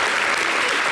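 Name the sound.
audience applauding the star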